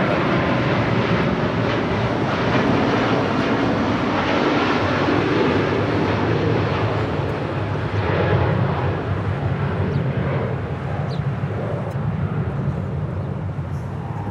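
A jet airliner departs Los Angeles International Airport with a broad, steady roar of engines that holds loud and full, slowly fading toward the end.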